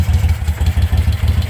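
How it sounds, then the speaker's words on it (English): A motorcycle engine idling steadily in freezing cold after a choke start, a low even throbbing pulse close up with a light mechanical clatter, no voices. "It's freezing cold and it's idling happily."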